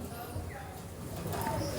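Ablook pigeons cooing softly in a loft full of paired birds, including some Madrasi pigeons, a low continuous murmur of coos with faint chirps and a voice nearby.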